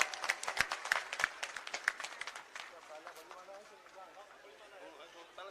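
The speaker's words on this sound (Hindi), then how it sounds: "जोरदार ताली बजाकर स्वागत करो" Crowd applause at an outdoor election rally in Nagina welcoming a political leader, a burst of loud, irregular clapping that thins out and fades toward a softer scattered patter.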